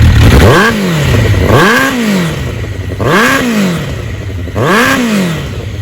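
A 1992 Suzuki GSX1100S motorcycle engine revs up and drops back repeatedly, four loud rising-and-falling pulses over a rough idle, close by.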